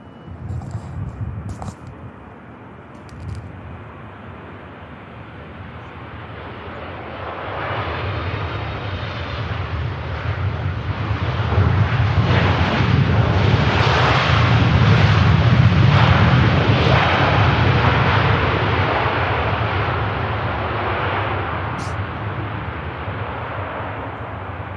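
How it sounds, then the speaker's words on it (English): A Saudi airliner touches down at Manchester Airport, its engine roar swelling from a distant rumble to a loud, broad sustained rush through the middle of the landing before easing slightly, with no talk over it. "Not a bad touchdown, that."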